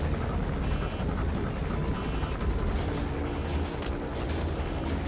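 Helicopter in the video game Metal Gear Solid V: The Phantom Pain, a dense steady roar of rotor and engine noise, loud and continuous throughout with no talking.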